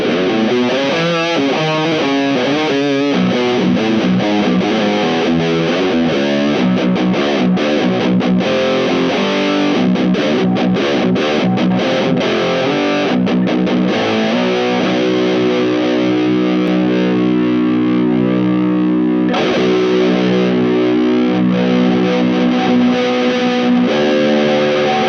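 Electric guitar played through a Zoom Hyper Lead HL-01 distortion pedal gives a loud, saturated tone, fast picked runs giving way to sustained ringing chords and held notes.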